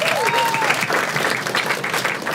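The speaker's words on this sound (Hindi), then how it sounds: "एक बात ताली बजाओ इसके लिए सभी" Dense, sustained applause from an audience at a stand-up comedy crowd-work show, loud and even, with a brief whistle-like tone at the start.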